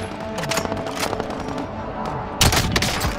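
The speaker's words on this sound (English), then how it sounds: "He's being shot at by someone else." Rapid gunfire bursts crackle through a trio-squad video game shootout, with dense overlapping shots throughout and a sharper, louder volley near the end.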